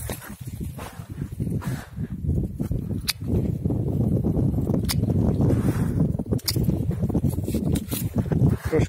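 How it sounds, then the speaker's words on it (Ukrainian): Gusty wind buffets close by in a hazelnut orchard in rough, rumbling bursts, with occasional sharp rustles and knocks. "Трошки вітряно"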